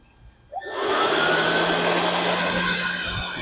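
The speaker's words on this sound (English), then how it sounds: "And now we're going to turn on the blower." A Harbor Freight Bauer 20V cordless workshop blower is switched on at its first speed, spinning up within a second into a loud, steady rushing whoosh that holds close and constant over dirt and straw.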